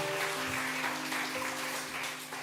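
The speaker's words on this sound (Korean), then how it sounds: "격려하면서 축복의 박수 한번 보내주시면" Church congregation at an afternoon worship service gives steady applause, a soft, dense patter of many hands that continues through the whole stretch at moderate distance, with a faint held tone underneath.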